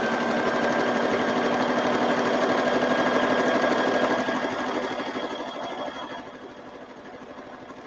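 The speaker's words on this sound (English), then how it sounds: "So see how I just kept stitch going right onto the next one." A sewing machine stitching paper ephemera runs in a steady, fast mechanical whir, loud and close, easing slightly toward the end.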